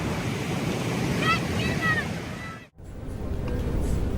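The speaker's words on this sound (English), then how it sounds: "The moment the waves started to roll in" Ocean waves roll in from the open sea aboard a ship, a loud, continuous wash of surf and wind noise that briefly cuts out near the middle, with a few faint high whistles earlier.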